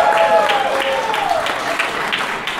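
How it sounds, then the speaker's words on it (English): A concert audience claps to welcome a band onto the stage, a moderately loud wash of applause that stays even throughout, with a faint tonal sound running through the first half. "Please give them a round of applause."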